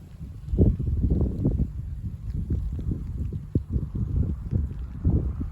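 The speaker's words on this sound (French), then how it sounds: "Le vent qui se relève." Gusty wind during a March sleet and snow shower buffets the microphone with low rumbling bursts, steady and close, with no voices.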